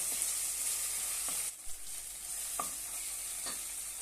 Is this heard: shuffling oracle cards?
no